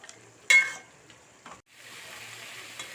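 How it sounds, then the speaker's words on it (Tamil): Ground mint paste is stirred into chicken simmering in a pan, giving a sharp scrape followed by a soft, quiet sizzle and occasional light clinks of the spoon. "நம்ம அரைச்சி வச்சிருக்கிற புதினாவை சேர்த்துக்கலாம். நல்லா கலந்து விட்டுக்கலாம்."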